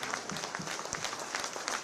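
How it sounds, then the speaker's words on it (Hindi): A crowd of farmers gathered to welcome the Chief Minister applauds steadily, a dense and fairly distant wash of clapping with no talk over it. "10 सेकंड की तालियां बजा करके आप माननीय मुख्यमंत्री जी का स्वागत अभिनंदन करें"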